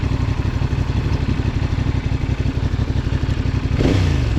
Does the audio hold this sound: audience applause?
no